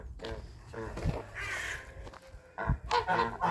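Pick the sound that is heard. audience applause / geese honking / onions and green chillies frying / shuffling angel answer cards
geese honking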